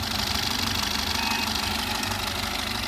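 A 2019 Maruti Suzuki Ertiga VDI diesel engine idles with a steady, close, low knocking rumble and an even, continuous drone, with no talk over it.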